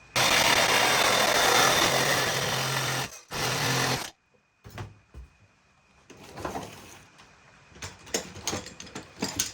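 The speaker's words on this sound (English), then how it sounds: "So now we're going to use the Recipro saw." Reciprocating saw cutting a length of spacer pipe for an air filter: a loud, steady, buzzing cut runs for about four seconds with a brief break, then stops, followed by quieter clatter and handling noises.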